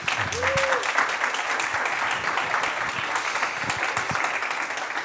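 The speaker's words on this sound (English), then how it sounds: "Give him a round of applause, please." An audience at a book and author talk applauds the guests, including Reverend Wheeler Parker Jr., in a steady, even wash of clapping that lasts the whole stretch, with a brief tone near the start.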